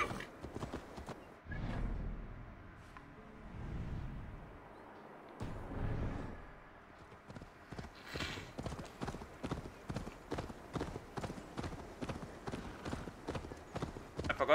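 Horse hooves clip-clop in the video game Assassin's Creed Valhalla, a steady rapid trotting rhythm building in the second half after softer rumbling movement, fairly quiet with no voices over it.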